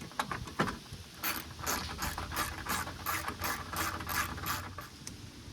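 A ratchet clicks rapidly while driving a 10mm bolt near the headlight of a 1996-2002 third-generation Toyota 4Runner, steady repeated pawl ticks close by.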